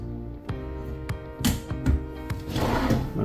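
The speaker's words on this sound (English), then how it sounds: "They are easy close drawers as well, which is really nice." A soft-close kitchen drawer in an East to West Tandara 26RD fifth-wheel RV is pushed shut, giving a series of close wooden knocks and sliding thumps with a soft settling rattle at the end.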